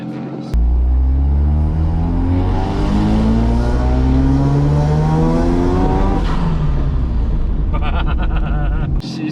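Four-rotor rotary engine in a Corvette revving steadily on a tuning run, a loud droning rumble sweeping up and down in pitch, then dropping away before a brief crackle at the end.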